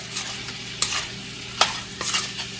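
Garlic-seasoned shrimp frying and being stirred in a pan, with a steady sizzle broken by sharp scraping clicks of the spatula at irregular intervals, close and fairly loud, with no talking.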